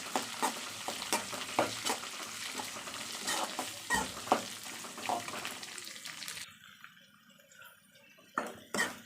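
Onions sizzle in hot oil with garlic and curry leaves, a steady close frying hiss broken by repeated scraping stirs, then the sizzle thins before a final stir.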